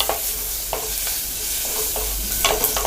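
Whole shallots and asafoetida sauté in hot oil for moong dal sambar, giving a steady close sizzle with light scraping taps as a spoon stirs the pan.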